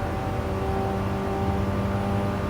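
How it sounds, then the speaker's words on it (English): A race car engine at the Bathurst circuit, heard from on board, holds a steady, loud droning note that runs unbroken throughout with no one talking. "The engine sounds a bit flat."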